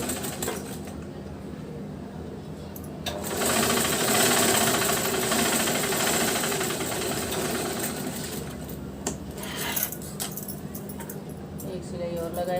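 A sewing machine runs a continuous stretch of stitching on a blouse, its rapid mechanical whir rising and holding for several seconds before easing off, close by, with someone talking intermittently around it.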